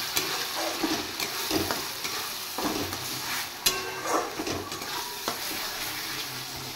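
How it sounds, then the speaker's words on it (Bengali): Onion fries in a pan with ginger, cumin and green chili paste, giving a steady close sizzle broken by periodic stirring scrapes and spatula knocks, with no voices. "এবার আমি দিয়ে দেব পেস্ট করে রাখা আদা, জিরে আর কাঁচা লঙ্কা। এবার আরও একটু ফ্রাই করব।"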